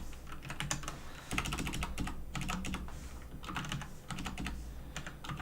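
A Cooler Master MasterKeys Pro mechanical keyboard clatters in bursts of rapid keystrokes with brief pauses, close and clear, with no talking.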